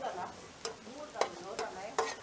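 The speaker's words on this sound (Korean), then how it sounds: "버섯을 살살살 잘 볶아주시면 되고요" Mushrooms stir-fried in a pan during a cooking class, with a light sizzle under repeated sharp scraping strokes of a utensil against the pan, roughly every half second, close and steady.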